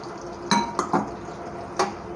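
Spiced marinated masala clatters into hot oil in a kadai along with stuffed tinda seeds, a few distinct metallic clinks and scrapes of a spoon against the pan, close and moderately loud over a quiet kitchen background.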